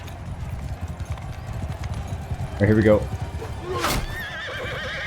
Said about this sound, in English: there's horses everywhere